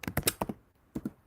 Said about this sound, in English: I'll just type it in the comment